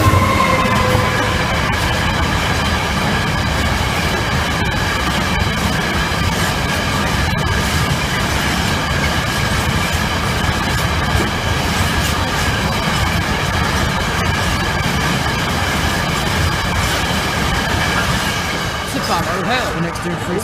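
A Class 66 diesel locomotive hauls a charter train from Norwich station carriage sidings, making a loud, continuous close-up rumble and rolling rail noise with steady engine drone throughout, and a voice talks over it.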